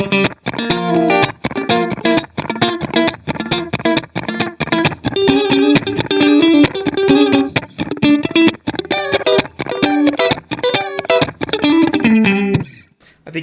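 Funk rhythm strummed on a Stratocaster electric guitar with the reverb off, choppy percussive chords repeating in a steady groove, loud and close with no voices.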